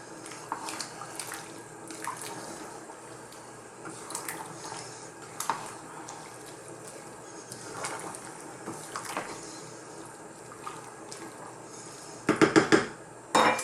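Black-eyed peas and potatoes in a thick curry get stirred in a pot, giving soft, wet squelching and scraping scrapes at irregular intervals, then a brief louder clatter of metal near the end.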